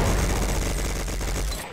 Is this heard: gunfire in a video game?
yes